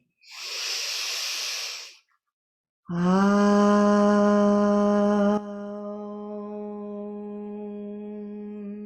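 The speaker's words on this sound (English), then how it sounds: "Inhale deeply." A deep, audible inhale during a yoga session sounds as a breathy rush of air lasting over a second, followed after a pause by a long, steady chanted Om tone that holds and then softens.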